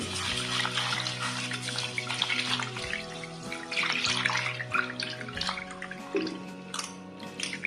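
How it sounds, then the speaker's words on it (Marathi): Water runs from a tap and is poured over raw rice being washed in a bowl while preparing traditional jaggery anarsa dough, a steady splashing flow throughout, with a music bed underneath. "पाणी टाकते।"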